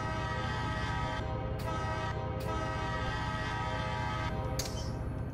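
A train in Run8 Train Simulator rumbles loudly and continuously, with a sustained horn blast layered over heavy engine drone and rail noise from start to finish.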